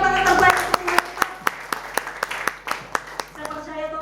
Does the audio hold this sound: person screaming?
no